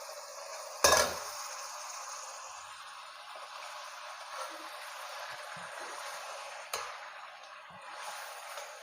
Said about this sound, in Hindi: मसालों को हमने अच्छी तरह से पका लिया है, अब हम इसमें मटन शामिल कर देंगे।